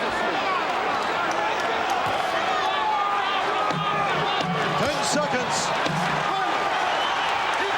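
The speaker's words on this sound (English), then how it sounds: "The crowd is on their feet here at the convention hall" Boxing crowd at a convention hall on its feet cheering at the close of a fast-paced heavyweight round, a dense roar of voices and clapping with a commentator talking over it.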